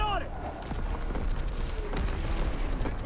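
Gunfire from the Call of Duty: WW2 video game in a Gridiron ball mode, a burst of several rapid shots ringing out at the start, followed by a busy game soundscape with further faint pops.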